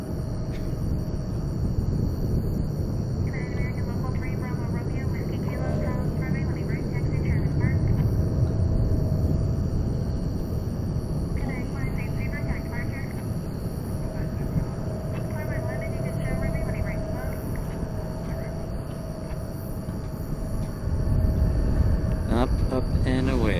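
Heavy airliner taking off from a busy airport runway, a long, steady jet roar swelling and fading at a distance, with a person talking intermittently over it.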